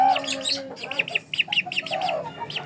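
Serama bantam chicken chicks give repeated high, quick chirps in clustered bursts, close and fairly loud, over a faint low background.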